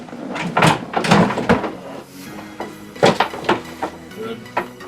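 Dresser drawers knock and thud in several irregular bursts of wooden bumps and scrapes, close by, with people talking in between.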